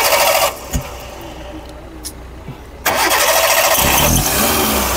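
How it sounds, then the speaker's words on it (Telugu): A Hyundai Santro Xing GLS car engine cranks briefly, then catches and settles into a loud, steady idle, with someone speaking nearby before it starts. "సింగిల్ సిల్ఫ్లో కార్ అయితే స్టార్ట్ అవుతుందండి"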